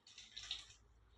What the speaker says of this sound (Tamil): விநாயகரி ஊற்றிக்குவோம்.